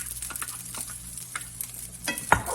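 Garlic is stirred through warmed rice in a hot pan, giving soft scraping strokes over a steady low sizzle, with a louder clatter near the end.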